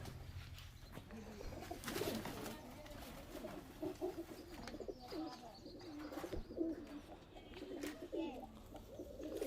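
Female Bangladeshi high-flying pigeon cooing in a loft, soft repeated low coos with faint chirps from other birds around, fairly close, no talk.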